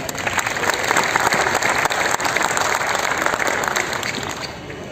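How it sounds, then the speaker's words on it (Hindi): Loud, dense applause from a large audience at an RCM business academy gathering in Bhilwara, sustained clapping that stays strong for several seconds before easing slightly. "मुझे इनका सबका बाबूलाल जी के लिए कुछ जोरदार ताली।"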